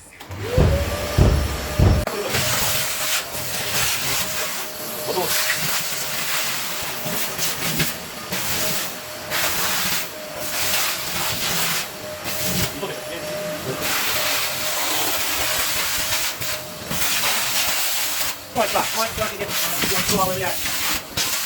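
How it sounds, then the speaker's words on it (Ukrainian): A vacuum cleaner runs over a freshly poured floor screed during renovation, starting after a brief bump and then holding a loud, steady, hissing roar with a faint whine throughout. "Сейчас пропылесосим и огонь будет."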